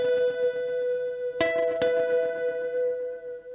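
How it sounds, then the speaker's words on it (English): Walrus Audio Stereo Slöer reverb pedal on its Rain program, a sustained guitar chord swelling into a grainy, granular ambient wash, with two sharp plucked attacks midway blooming into the steady shimmering tail. "This is a lower level of diffusion, giving us this sort of grainy rain stick sort of sound."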